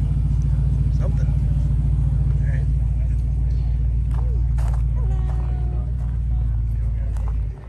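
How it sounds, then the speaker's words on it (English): A Chevrolet Camaro at a car week gathering idles with a deep, steady engine rumble close by, continuous and loud before easing off at the end, while people talk in the background. "I guess we started the Camaro up."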